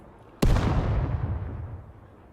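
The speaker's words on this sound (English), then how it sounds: "let's just fire some fireworks right next to my car" In a video game, fireworks go off right beside a car: one loud, sharp bang, then a rumbling decay that fades over about two seconds.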